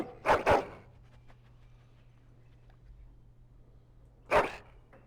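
A hound in the video game Dragon Age: Origins lets out two quick barks, falls quiet over a low steady hum, then gives one more bark near the end.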